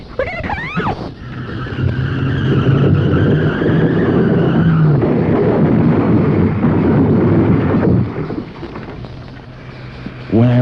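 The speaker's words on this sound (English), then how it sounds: "Look out! We're going to crash!" Tires squeal as a car skids hard in a radio drama sound effect, a loud sustained screech with engine roar lasting several seconds before a sudden crash-like break and brief quiet.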